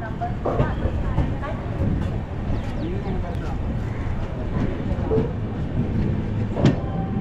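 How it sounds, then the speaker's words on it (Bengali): The Coromandel Express pulls out of Rajahmundry station from platform 2, with a steady low rumble and rattle of the coaches heard from inside, scattered clanks and squeaks, and voices talking in the carriage. "রাজামন্দির স্টেশন ছাড়ছি আমরা, 2 নম্বর প্ল্যাটফর্ম থেকে ছেড়ে বেরিয়ে যাচ্ছি।"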